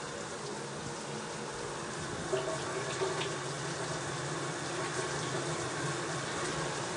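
Water spraying steadily onto tiled shower walls and grout during a home inspection, a soft continuous hiss and patter heard fairly quietly and alone.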